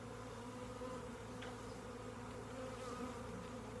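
A honey bee swarm clustered around its queen in a tree makes a dense, continuous buzzing hum that stays steady and close throughout, with no talking.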